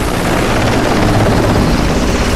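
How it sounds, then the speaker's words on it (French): Helicopter in the video game Bulletstorm, a loud, steady rotor roar with continuous beating that fills the whole stretch. "Tiens bon l'hélico quand même depuis tout à l'heure, je croyais qu'il allait se crasher plus tôt"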